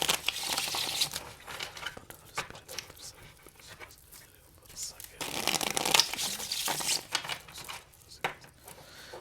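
Tarot cards being shuffled during a reading, giving bursts of soft papery riffling and slapping in uneven runs, fairly close, with quiet gaps between and a voice talking at times.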